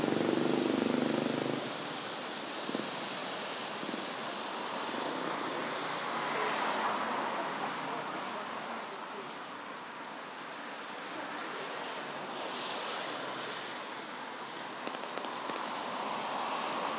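Rain falls steadily on a quiet Singapore street, a continuous soft hiss that swells and eases slightly, heard at a distance with no voices.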